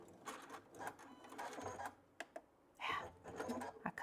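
A Baby Lock Sashiko quilting machine stitches a tote bag seam in rapid mechanical bursts, close and steady, with brief pauses between runs before it starts again.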